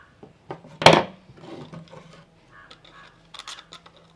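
A plastic bottle has its top cut off, with scattered close crunching and scraping cuts, one loud crackling snip near the start, then softer irregular cutting sounds.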